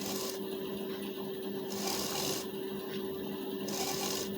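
A sewing machine keeps up a quiet, steady hum while double-stitching blouse fabric, with faint rhythmic shifts in the tone and no pauses.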